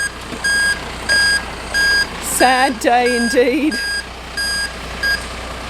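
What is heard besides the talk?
truck reversing beeps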